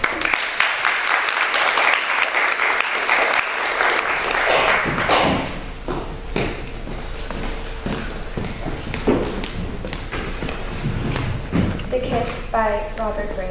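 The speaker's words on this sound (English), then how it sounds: "please feel free to applaud and cheer as they make their way up the stage" Sustained applause and cheering from a poetry recitation competition audience, dense and loud at first, then thinning into scattered claps and thumping steps as a contestant walks to the stage.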